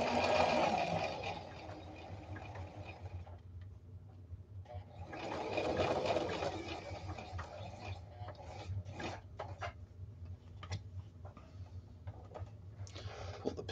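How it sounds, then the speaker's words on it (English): Sewing machine stitching the sleeve of technician coveralls, a steady fast mechanical whir in two bursts separated by a brief pause, then lighter ticking and handling sounds, fairly close. "sew to the end of the sleeve. Lock stitch that"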